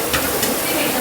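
Tamarind water is poured into drumstick leaves frying in a pan for thokku, giving a brief, close burst of loud sizzling and hissing.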